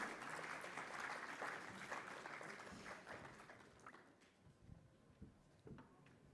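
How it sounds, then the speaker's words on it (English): Applause from an audience at a sugar and bio-energy council meeting panel in New Delhi, dense at first and then thinning into scattered claps as it fades. "Can we have a louder applause?"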